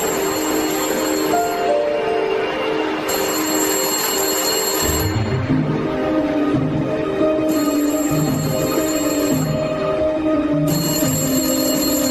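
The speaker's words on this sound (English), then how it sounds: "Find the phone near the clock. It's going to ring in 30 seconds." A telephone near a clock in downtown San Francisco rings in repeated bursts of a couple of seconds each, loud over a continuous rumbling, rail-like background.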